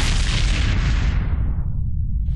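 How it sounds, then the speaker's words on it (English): Mortar blast in a World War 1 war film, a loud, deep, rumbling explosion that fills the clip and decays into a low, lingering boom. "Mortars!"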